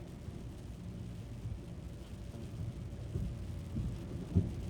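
A thunderstorm heard from inside a moving car: low rumbling and rain noise under steady road drone, with a brief louder thump near the end.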